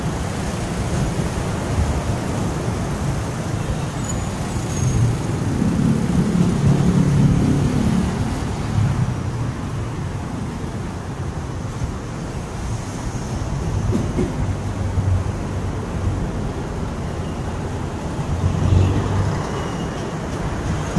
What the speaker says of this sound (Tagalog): kita nyo ba yung traffic na yan?